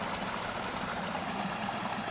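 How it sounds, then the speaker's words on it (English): Water runs and trickles steadily as it drains from the arches of the Chalford railway viaduct toward the canal, a continuous close rushing wash with no other sounds. "I can hear water running. I imagine that's what's draining away from the arches."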